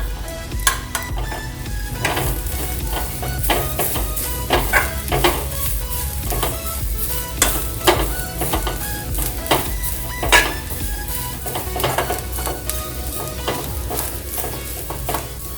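Rice roasting in a pan, stirred steadily with a metal spoon: continuous close sizzle and dry scraping, punctuated by frequent sharp clinks of utensil against the pan.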